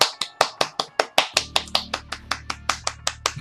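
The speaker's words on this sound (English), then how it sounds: "Eiichiro Oda gets claps" Hands clapping in a quick, steady rhythm, about eighteen sharp claps in a row, close and fairly loud, with a low hum joining partway through.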